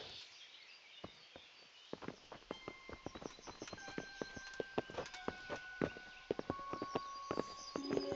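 Horse hooves clip-clop in the medieval video game Kingdom Come Deliverance, starting as sparse hoofbeats and building into a steady, busier patter of several horses walking, with faint ringing tones in the background.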